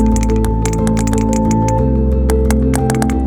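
Three or more sperm whales clicking, picked up on an underwater hydrophone: a dense, irregular crackle of sharp broadband clicks like frying bacon, layered over a steady low droning hum.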